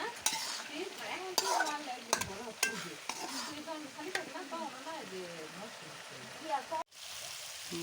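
Fish sautéing with spices in a pan over a clay stove, with a steady frying sizzle, repeated sharp stirring scrapes and a few clatters, and a voice talking over it.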